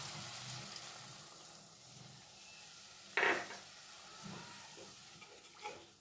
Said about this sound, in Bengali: এবার ঝোলের জন্যে, গ্রেভির জন্যে অল্প ঈষৎ উষ্ণ জল আমি এর মধ্যে অ্যাড করে দিলাম